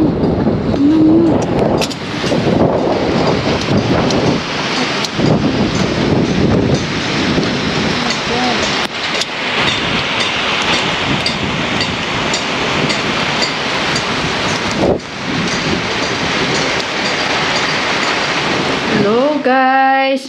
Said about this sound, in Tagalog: parang dumaan bigla ang lakas ng hangin